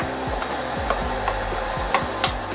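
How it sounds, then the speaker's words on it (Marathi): Ground spice paste is roasted in a hot pan with jaggery for a mango raita, sizzling continuously. A spatula scrapes and stirs in a quick, rhythmic pattern, with a few sharper taps against the pan. "नुसतं वाटण घालून भाजून घेऊया थोडंसं"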